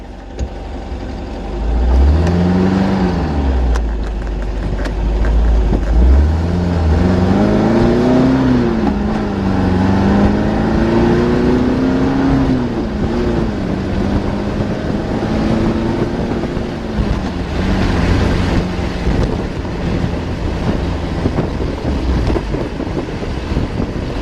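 A 1.8 L Porsche 914 driving and climbing through the gears, engine note rising and dropping with each shift over about twenty seconds, heard from inside with steady wind and road rumble.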